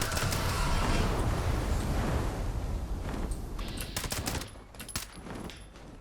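Rapid bursts of Instigating Combat Rifle fire in the video game Fallout 76, a dense, loud fusillade of shots for several seconds that thins out into a few scattered, quieter reports near the end.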